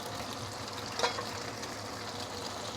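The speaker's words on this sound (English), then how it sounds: "Slowly pan fry this for a couple of minutes." A soft, steady sizzle of an egg mixture pan frying for tofu and nappa cabbage stew, faint and continuous with one small pop of louder crackle.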